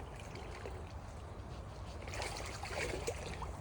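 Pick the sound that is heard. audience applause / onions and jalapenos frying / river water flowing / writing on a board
river water flowing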